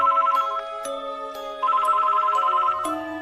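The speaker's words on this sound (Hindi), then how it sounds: "तभी उनका लैंडलाइन बजा।" A landline telephone ringing at night in a house, a loud electronic ring tone repeating in a steady melodic pattern, close and alone without talk.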